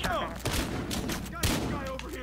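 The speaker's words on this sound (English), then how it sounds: "Oh, I'm getting shot at." Gunfire in the Battlefield Hardline multiplayer video game, scattered shots cracking over a busy game background at moderate level, with someone talking over the action.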